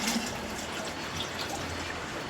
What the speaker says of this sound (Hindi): मम्मी पलट रही है भाई मटके में पानी